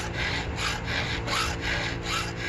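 A hand file sharpening the teeth of a saw after milling, filed at a shallow angle, gives steady rhythmic rasping strokes, about five close, loud even passes with no talk.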